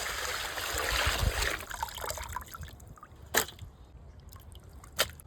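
Goat eyes rinsed under running water in a kitchen, a close trickle and splash that fades after a couple of seconds, followed by a few sharp clinks.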